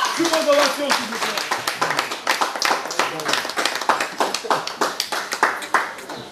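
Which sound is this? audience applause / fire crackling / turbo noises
audience applause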